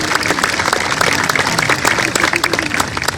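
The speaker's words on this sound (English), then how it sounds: "Let's give them all a round of applause, please." An audience at a high school graduation ceremony breaks into sustained applause, a dense wash of many hands clapping close and loud, with a few voices faintly mixed in.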